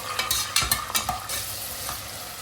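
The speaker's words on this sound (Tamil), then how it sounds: "நம்ம கட் பண்ணி வச்சிருக்க கேரட் சேர்த்துக்கலாம். இப்போ கொஞ்சம் வதக்கிக்கலாம்." Chopped carrots being sautéed in hot oil for a Tamil-style veg pulao give a steady sizzle, with several sharp scraping stirs from a spoon in the pan clustered near the start.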